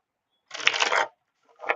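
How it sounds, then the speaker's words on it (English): Tarot cards shuffled up close, one brisk riffle of about half a second followed by a shorter second riffle, with silence around them. "Let me shuffle again."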